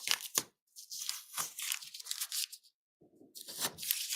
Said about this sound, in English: Let me take some of the tape off.